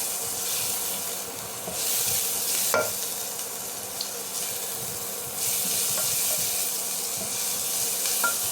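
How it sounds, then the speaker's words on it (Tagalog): Onions stirred and frying in a pan for pork caldereta, a steady sizzle with scraping spoon strokes and a few sharp clinks against the pan, continuous and close with no talking. "Pwede na po isunod yung sibuyas. Halu-haluin lang po."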